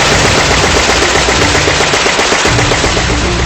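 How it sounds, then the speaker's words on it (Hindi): An F-35 fighter jet firing its gun while parked on the ground: a very loud, continuous, rapid burst of gunfire that sustains an even roar throughout, with no pauses and no voices. "देखिए जमीन पर खड़ा F-35 कैसे अंधाधुंध गोलियां दागता है।"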